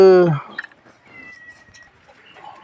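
A cat gives a loud, clear meow right at the start, tapering off quickly, followed by quieter rustling and faint background sounds.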